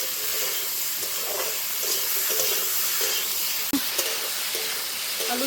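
Turmeric frying in a pan for a potato-and-aubergine chapila fish curry gives off a steady, close, broadband sizzle and hiss that holds evenly throughout, with one brief knock near the end.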